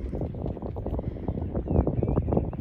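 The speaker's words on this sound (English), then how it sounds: "Sorry about the wind." Rough, low rumbling buffets of wind hitting the microphone outdoors near a duck area, gusting continuously and fairly loud, with no other clear sound.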